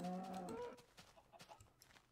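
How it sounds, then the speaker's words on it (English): A farm animal call in a video game, a cow's moo alongside a clucking fowl-like cry at the start, followed by scattered quieter clicks and taps. "let's kill some more cows"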